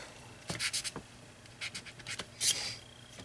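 An eraser rubbing out a drawn line while painting in acrylic: short dry scrubbing strokes in quick bursts, close and faint, with no talking.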